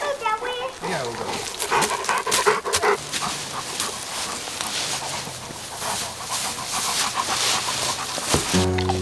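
A dog named June panting rapidly and steadily up close outdoors in Alaska, with a bird calling and a person speaking briefly near the end.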